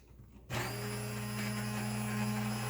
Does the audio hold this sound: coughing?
no